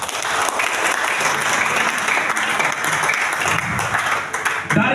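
A church congregation claps for Jesus in loud, sustained applause with a full crowd texture and faint voices mixed in, holding steady to the end.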